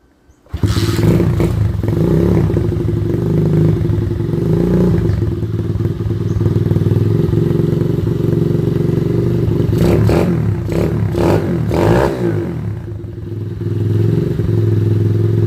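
A kickstart 125cc motorcycle engine catches after a thump and settles into a steady, loud idle close by, with a few blips of revving and clattering mechanical noise partway through.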